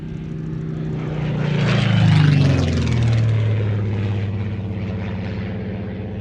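A Supermarine Seafire propeller fighter flies past at an air show, its engine drone swelling to a loud peak as it passes close, then fading into a steady distant hum with a falling pitch.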